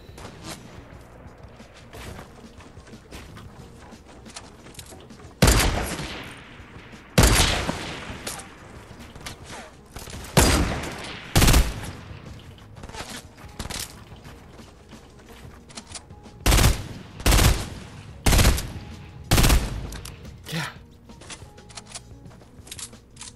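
A FAMAS rifle in Fortnite fires in loud, close three-round bursts separated by pauses, with quieter distant gunfire and game ambience between the volleys.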